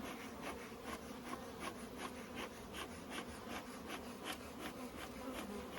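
Honeybees drone in a large, open hive, a dense, continuous buzz close by with a steady, even level throughout and no voices.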